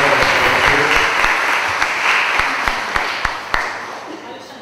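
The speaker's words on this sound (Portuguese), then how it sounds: "por favor, palmas para vocês" Audience applause welcomes three guests at an illustration and animation event, a full roomy burst of clapping that slowly thins out, with individual hand claps becoming distinct toward the end.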